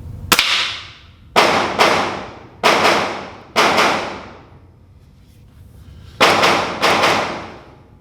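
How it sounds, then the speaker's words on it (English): Ruger Blackhawk revolver fired at a target, several loud, sharp reports spaced a second or so apart, each cracking sharply and then ringing out in a fading tail, with a brief quiet gap midway. "I'm going to take one more shot at that top target."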